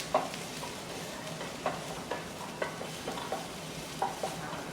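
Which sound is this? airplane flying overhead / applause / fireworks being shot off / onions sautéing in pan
onions sautéing in pan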